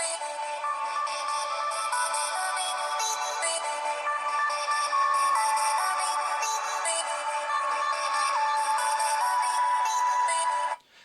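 Music plays through a small smartwatch speaker, a bright, thin melody with no bass, steady and fairly loud for about ten seconds before cutting off abruptly.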